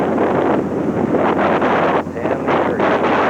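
Heavy wind roars and buffets a small microphone on a steep zigzag mountain road near Casper, Wyoming, a loud, constant rush with gusty dips and no voices.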